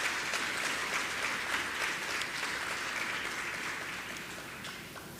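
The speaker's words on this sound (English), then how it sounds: "Please give the PTA a round of applause." A school graduation audience gives a round of applause for the PTA: a steady wash of many hands clapping that slowly thins out and softens over a few seconds, with no voices on top.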